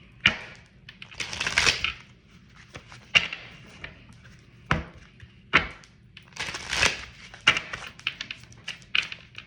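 Tarot cards being shuffled and drawn by hand, heard as a series of sharp, crackling riffles and slaps in uneven bursts with quiet pauses between, close and fairly clear.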